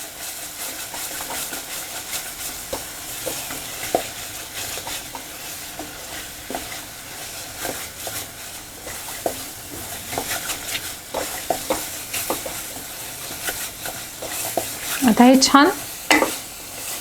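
Peas usal stir-fried in a pan with turmeric and red chilli powder, a steady soft sizzle and scraping stir running throughout, a brief louder burst near the end, with a few spoken words over it.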